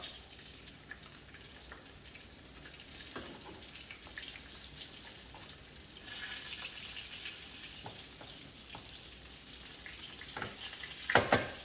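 Crumbed lamb cutlets fry in a pan, a faint, steady hiss and sizzle running throughout with a few light scrapes, ending in a louder clatter as the cutlets are turned; no one speaks.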